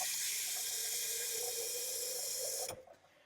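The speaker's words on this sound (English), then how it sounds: "I'm just using my good safe tap water." Tap water runs into a glass canning jar with a steady hiss and a rising tone as the jar fills, close and clear, before the flow is shut off and fades out.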